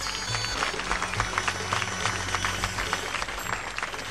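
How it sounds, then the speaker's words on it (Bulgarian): An audience at the Balkan Folk festival on Stara Planina applauds performers from Indonesia with steady, dense clapping that carries on for several seconds, filling the outdoor space. "Моля вашите аплодисменти за тях."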